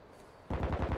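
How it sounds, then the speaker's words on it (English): Gunfire in Call of Duty: Modern Warfare 2, a loud rapid burst of roughly five or six shots starting halfway through, following a quieter stretch of game background. "the gunshots are so loud"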